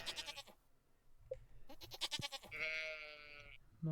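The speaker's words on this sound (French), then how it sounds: "je vais avoir des petits moutons, c'est génial" Sheep in the Stardew Valley farming game bleat in a string of short, bright cries, with two longer wavering bleats near the end and no talk over them.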